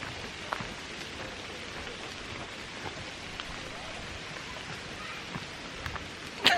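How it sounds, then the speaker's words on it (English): Rain falls steadily in an even, soft hiss with scattered sharper drops, near and continuous, and a brief louder knock near the end. "Oh, it's raining."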